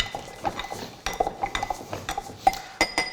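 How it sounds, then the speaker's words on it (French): Strawberries are muddled with almond syrup in a glass for a mocktail, giving a series of sharp clinking taps and thuds in an irregular rhythm, close and fairly loud, with no talking. "on va venir réduire tout ça en bouillie"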